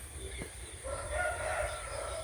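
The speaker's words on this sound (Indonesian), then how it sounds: "Peliharaan saya yang kelima ini guys, ayam." A rooster crows at a moderate distance, a rising drawn-out call heard over steady background hiss and low rumble, without speech.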